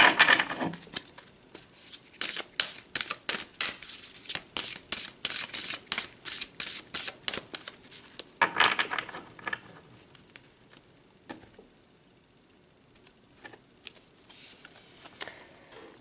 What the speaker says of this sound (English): let's pull another card.